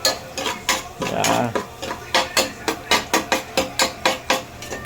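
A metal spatula scrapes and clanks against a pan while stirring and mixing corned beef, a rapid steady run of loud, close metallic knocks and scrapes, with a brief word spoken.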